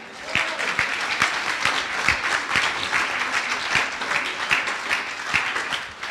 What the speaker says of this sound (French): Applaudis pour toi-même.